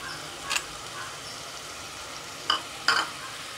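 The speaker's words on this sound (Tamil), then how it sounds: "இந்த ஸ்டேஜில் வந்து நான் ஒரு 2 கேரட்டை கட் பண்ணி வச்சுருக்கேன், அதை சேர்த்துக்கலாம்" Two chopped carrots fry in oil for Dindigul-style biryani, a faint steady hiss broken by three brief scraping stirs, with no voices.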